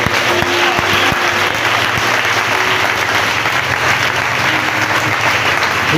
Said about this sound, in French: Nous acclamons très fort le Seigneur.